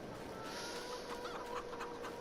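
Chickens cluck softly at a farm in Farming Simulator 22, a few short clucks and chirps over a steady background hiss.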